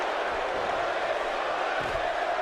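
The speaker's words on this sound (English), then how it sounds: "The crowd still chanting for Bray." A video game wrestling arena crowd in WWE 2K chants and roars as a continuous, loud wash of massed voices, with no single voice standing out.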